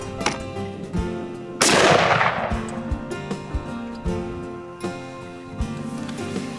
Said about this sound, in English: I'm shooting Hornady 139 grain SST Super Performance bullets